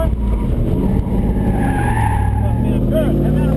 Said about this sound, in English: Hard brakes for the left-hand turn.